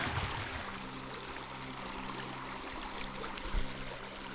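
River water flowing steadily on a trail during the Moab 240 endurance run in Utah, a continuous close rushing wash with a brief louder splash near the end.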